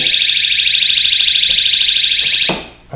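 A buckle-style door alarm blares as the door is forced open, a loud, piercing continuous electronic tone that holds steady for over two seconds, then cuts off abruptly, followed by a brief clunk.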